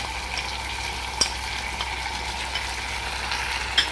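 Fenugreek seeds dropped into hot oil with chicken masala, giving a steady, close sizzle and frying crackle with a few sharp pops.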